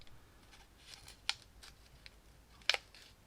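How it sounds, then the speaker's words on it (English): Scissors snipping yarn for a scarf fringe, two crisp, close snips about a second apart against a quiet background. "So just cut that like that."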